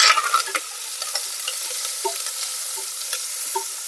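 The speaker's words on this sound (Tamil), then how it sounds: "கூடவே கொஞ்சம் கருவேப்பிலை சேர்த்து நல்லா வதக்கிக்கலாம்." Steady sizzling of onions and curry leaves sautéing in hot oil for an Erode-style mutton thanni kuzhambu, with scattered pops and crackles and a few stirring scrapes up close.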